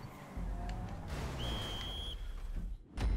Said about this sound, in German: Ah, da wird sogar gepfiffen.